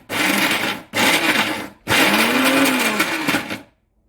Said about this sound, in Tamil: ஓகே, இப்போ நம்ம அரைக்க போகிறோம்.